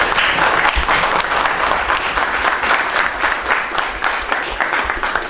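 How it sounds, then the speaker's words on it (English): A conference audience breaks into loud, steady applause, many hands clapping close and continuously for about five seconds with no speech over it. "You can clap if you want"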